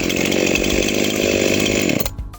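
A Husqvarna 353 gasoline chainsaw roars loudly and steadily at close range after starting, then suddenly cuts out near the end, leaving a few faint clicks.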